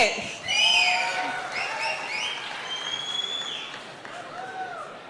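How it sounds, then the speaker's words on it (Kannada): A live audience claps and cheers loudly for the producers of the Kannada film Pepe on stage at a film event, with whoops and shouts rising over steady applause throughout. "ನಿರ್ಮಾಪಕರಿಗೆ ನಿಜವಾಗ್ಲೂ ಜೋರಾದ ಚಪ್ಪಾಳೆ ಬರಬೇಕು"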